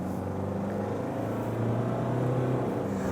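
A 2024 Mitsubishi Triton pickup with a 2.4-litre twin-turbo diesel drives under load, a steady engine drone with a rising tonal note and faint turbo whistle, close and continuous with no talk.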